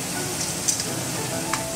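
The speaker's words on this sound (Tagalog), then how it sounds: "So, now kumukulo na siya." Kare kare sauce with dissolved annatto powder bubbles and sizzles steadily in a pan, a close, continuous simmering hiss with a few brief louder pops.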